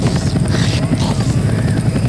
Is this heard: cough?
no